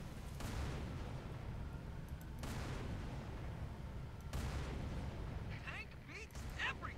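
Tank cannon fire and explosions in the video game Halo 3, three heavy booming blasts spaced a couple of seconds apart over a low rumble, with chirpy game effects toward the end.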